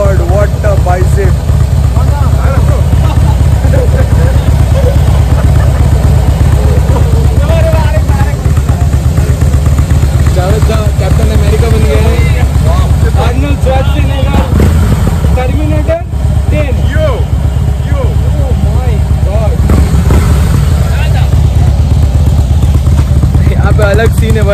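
A Harley-Davidson Fat Boy 103 motorcycle runs loud and close, its engine a steady rumbling drone with clattering idle texture, while people talk over it during test rides.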